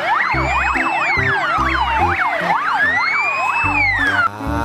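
A fire truck siren wails and yelps loudly and continuously, over a steady low pulsing beat.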